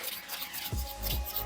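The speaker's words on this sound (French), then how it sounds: "Une belle lame de cutter." A utility knife blade scrapes old paint off glass in two short, close rasping strokes, faint and dry against a quiet background.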